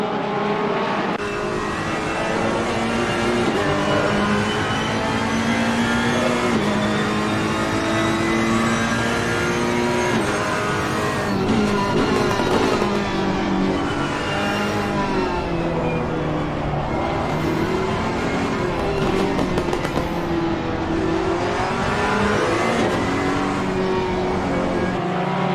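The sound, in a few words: race car engines in a sim racing video game broadcast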